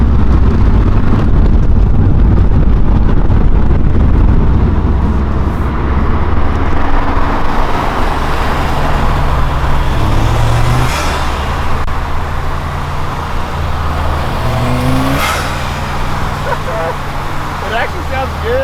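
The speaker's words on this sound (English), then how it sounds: "I want to get a couple clips of the intake" Subaru STI with an AM cold air intake pulling hard, a loud close engine roar with wind buffeting, then easing to a lower rumble as voices talk over it.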